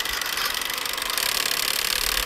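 A New Bright Bigfoot radio-controlled monster truck runs through snow, its small electric motor giving a steady, loud high-pitched whine and rattle that holds throughout without a break.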